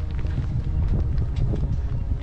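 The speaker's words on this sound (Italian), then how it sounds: "Freddo, vento." Cold wind buffets the microphone on a hiking trail in the Faroe Islands, a steady low rumbling roar with gusty swells and faint crunching steps underneath, no voices.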